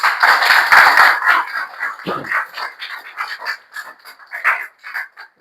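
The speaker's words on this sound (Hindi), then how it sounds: "एक बार बजाओ जबरदस्त तालियां" Audience clapping at an open meeting, a burst of brisk applause that starts loud and then thins into scattered, uneven claps fading toward the end.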